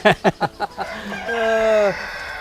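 KUB chickens on a farm in the morning: a run of five quick, loud clucks in steady rhythm, followed by a longer drawn-out crowing call from a nearby bird, with faint background farm ambience.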